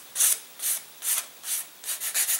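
Light sanding by hand, rounding the leading edge of a balsa-style horizontal tail on an elastic-launched model glider, heard as soft, close rasping strokes in a steady rhythm, about eight passes, quickening toward the end.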